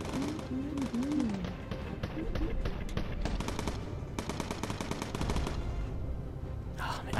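Machine gun fire aboard a bomber in Bomber Crew: long, rapid bursts of loud rattling shots that keep going almost without a break.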